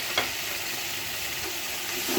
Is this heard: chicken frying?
yes